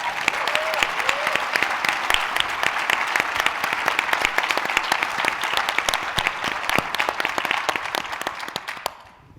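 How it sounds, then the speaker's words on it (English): A conference audience at a closing plenary session claps for a panel taking the stage, a loud, sustained burst of close applause with sharp individual claps standing out, ending abruptly. "Round of applause for this amazing panel."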